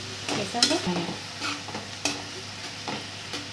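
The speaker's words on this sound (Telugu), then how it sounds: "మంచిగా ఫ్రై అవుతుందండి" Food sizzles in a pan as eggs are fried with turmeric for a Telangana-style egg curry. It is a steady close hiss with several sharp clinks of a spoon stirring.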